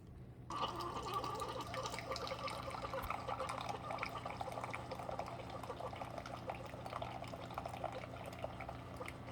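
A Keurig single-serve machine brewing a Donut Shop K-Cup coffee, starting abruptly with a steady trickling, dribbling stream of liquid and faint machine hum that continues evenly to the end.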